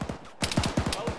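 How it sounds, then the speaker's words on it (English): Vehicle gunfire rattles in the Arma military video game, a rapid burst of shots after a brief lull, mid-distance and fairly loud, with a voice briefly audible. "Is that a Vic shooting at us?"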